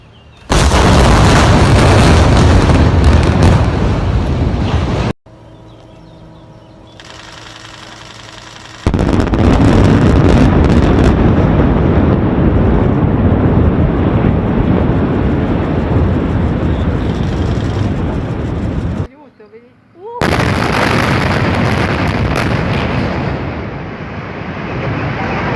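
Controlled demolition blast bringing down the remains of the Morandi bridge in Genoa, set in a valley above the city: loud broadband booms and a sustained roaring rumble fill most of the stretch, broken by short quieter gaps, with no voices.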